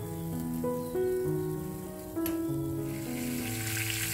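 Chicken pieces fry briefly in hot oil until the outer skin turns crisp, for a yellow-broth soto ayam; a steady sizzle runs throughout beneath background music.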